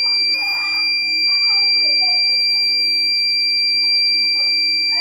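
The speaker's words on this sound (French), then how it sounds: "la température va augmenter dans l'habitacle, le buzzer va se mettre à sonner" A loud, steady high-pitched electronic buzzer, triggered by rising temperature in a thermistor-controlled fan circuit, sounds continuously while a person talks underneath it.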